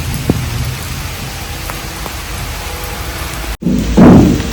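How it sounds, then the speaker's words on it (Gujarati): Steady rain falls in Kutiyana, a constant close hiss of drops on surfaces, briefly cut by a sharp dropout before returning louder with a rushing swell near the end. "કુતિયાણામાં 4 વાગે વરસાદ ચાલુ થયો"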